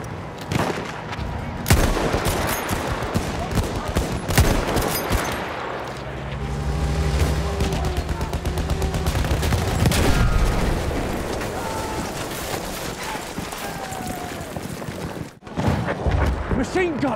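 Battlefield 1 battle with machine gun fire: dense bursts of gunfire and heavy booms, with a deep rumbling drone midway, mixed under voices and loud combat noise.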